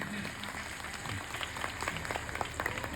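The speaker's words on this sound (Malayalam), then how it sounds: "അദ്ദേഹത്തിനൊരു നല്ല കയ്യടി ഈ സദസ്സ് കൊടുക്കണം എന്ന് ഞാൻ ആഗ്രഹിക്കുകയാണ്." A school audience applauds in a soft, distant, dense patter of many hands clapping, with faint voices mixed in.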